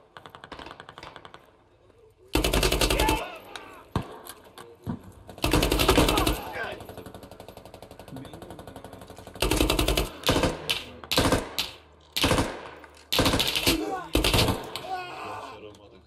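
Bursts of automatic gunfire from the military shooter game Squad, loud rapid volleys recurring several times across the stretch with short pauses between them, while players talk over the game audio.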